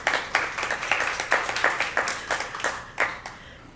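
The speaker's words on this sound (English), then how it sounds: "So give yourselves a round of applause for that." A congregation claps in a sparse, moderately close round of applause, with individual hand claps clearly distinct and gradually thinning out.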